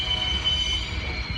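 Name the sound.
train wheels squealing loudly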